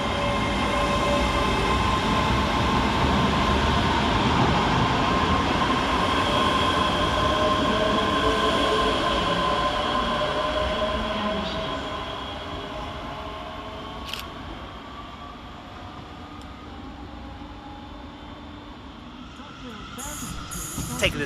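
Scotrail class 385 unit 385034 at Paisley Gilmour Street station, a loud rumble and clatter of wheels with whining traction motors that fades after about ten seconds to quieter station ambience, and a camera shutter near the end.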